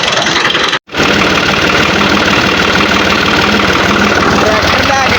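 A tractor engine runs steadily with a dense, continuous rumble on a muddy rural track, close and loud, broken only by a brief dropout near the start.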